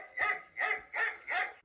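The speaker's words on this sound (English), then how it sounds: "A dog goes." A dog barks four times in an even rhythm, each bark close, loud and clear with nothing else around it.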